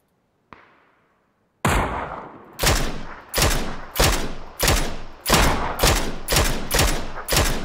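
In the PUBG video game, a single shot cracks out, then after a short pause eight loud, evenly spaced gunshots boom one after another, each with a sharp attack and a decaying tail, close and dominant.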